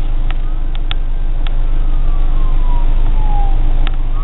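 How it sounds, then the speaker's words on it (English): An ambulance siren wails in the distance, its sweeping tone rising and falling under loud, steady traffic rumble, with a few brief clicks. "Oh, it's an ambulance."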